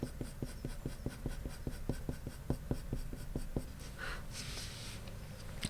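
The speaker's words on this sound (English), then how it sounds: "So using the point of the pencil," Colored pencil in dark sepia scratching across paper with the point, a steady series of short rhythmic strokes, close and clear, ending with a softer rubbing sweep.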